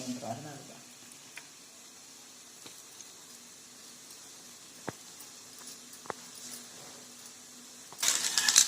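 Poli flatbread of wheat flour and sweet potato filling cooks on a pan over a medium flame, a faint, steady low sizzle with a few sharp ticks and a brief louder crackle at the end.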